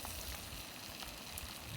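Twelve strips of bacon sizzle for lunch cooked outdoors near Mount Phillips, a soft steady frying crackle heard faintly and continuously with no talk.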